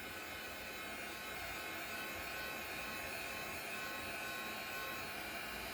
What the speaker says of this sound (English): it's just my embossing tool that I use. Heat gun, blow dryer, whatever works.